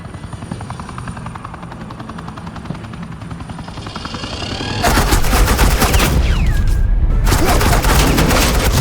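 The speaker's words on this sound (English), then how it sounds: "This is Agent Quinn, suppressing fire" Gunfire from the Batman Telltale Series video game, heard as loud sustained automatic bursts that erupt midway over a steady helicopter-like drone, continuing as dense rapid fire to the end.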